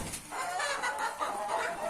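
Hens on a farm cluck in a steady series of short, overlapping calls, moderately close and continuous for about two seconds with no talking.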